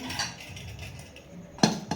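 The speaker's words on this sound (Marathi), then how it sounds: "आता लावणार आपण झाकण" A single metallic clank of a lid set onto a pressure cooker, followed by a lighter knock, over faint kitchen background.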